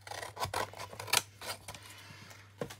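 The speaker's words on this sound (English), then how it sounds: "Let's cut this strip off" Scissors snip off a strip of cardboard for a handmade assemblage tag project. Several close, crisp crunching cuts come in an uneven rhythm, and no voice is heard.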